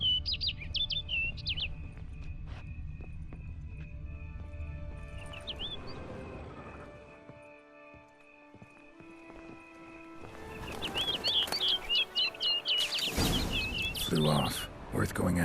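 Birds chirp in short bright bursts in The Witcher game, first briefly, then as a denser flurry near the end, mixed with horse hooves clip-clopping and a spoken voice.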